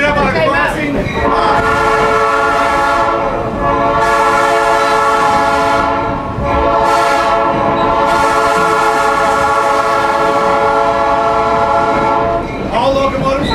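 A locomotive horn blasts loud and close ahead of a railroad crossing on a heritage railway in Jamestown, California, sounding long sustained blasts with short breaks, over the rumble of the moving train.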